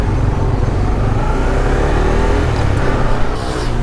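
A Honda CB150X motorcycle engine runs steadily on a test ride, with a continuous mid-pitched drone and wind rush, holding a fairly constant level throughout and no talking.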